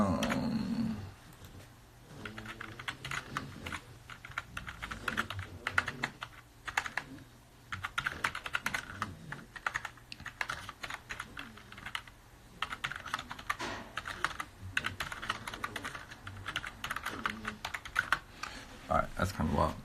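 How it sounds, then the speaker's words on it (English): Someone types one-handed on a computer keyboard, sending out an uneven run of close, clicky keystrokes in bursts over about twenty seconds. "I type kind of ridiculously with one hand"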